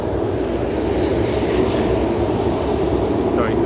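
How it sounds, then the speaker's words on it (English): A Metrorail train rumbles past overhead above an old railroad spur crossing, a steady, loud, low roar that fills the whole stretch without letup. "Sorry, that noise is a Metrorail."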